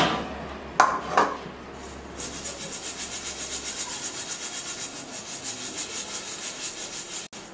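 Puffed rice (murmura) shaken in a vessel to sift and clean it: a couple of light clanks, then a steady rhythmic dry rustling and rasping that continues at moderate loudness.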